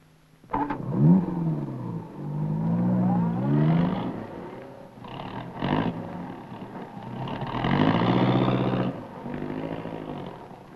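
A Dagenham-built test car drives along a tarmac road leading out of Nairobi in 1958, its engine rising and falling in long revving sweeps as it accelerates and shifts, fairly close and loud.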